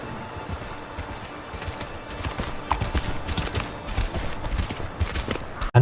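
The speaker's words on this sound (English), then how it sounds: "as the horse stepped on the stone there, you could hear the subtle metallic sounds of the horse shoe" Horse hooves clip-clopping on stone in a next-gen video game, with faint metallic horseshoe clinks, a steady walking rhythm of close, fairly quiet steps over low background noise.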